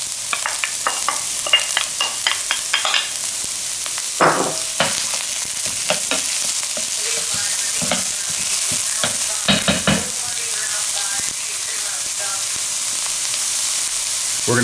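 An onion sizzles and fries in a hot pot, a steady crackling hiss broken by occasional stirring scrapes and clatters throughout.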